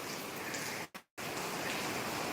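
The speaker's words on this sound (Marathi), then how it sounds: "बघा बाहेर खूप पाऊस पडत आहे" Heavy rain outside a house falls as a dense, even hiss, faint and continuous apart from a brief gap of silence near the middle.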